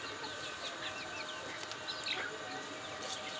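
Many chicks in a homemade incubator peep continuously, a dense overlapping chorus of high chirps close by over a steady background hum.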